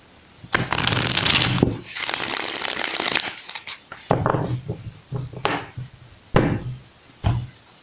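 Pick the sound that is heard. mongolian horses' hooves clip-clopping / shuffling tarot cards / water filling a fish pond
shuffling tarot cards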